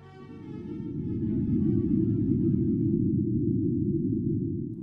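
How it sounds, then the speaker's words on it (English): A Marsquake recorded on Mars, a tremor measuring 4.6 on the Richter scale, comes through as a steady, loud, low rumbling drone that swells and holds for several seconds with no other sounds. "This is the sound of an earthquake, or more accurately, a Marsquake"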